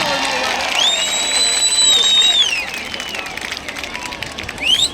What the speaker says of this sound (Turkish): Bence alkışları daha da ucaltabiliriz.